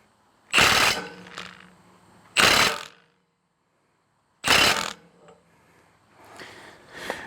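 A ratchet tightens a bolt on a log splitter's hydraulic cylinder in three loud, close, rattling bursts of about half a second each, separated by pauses, with fainter rattling and clicks in between.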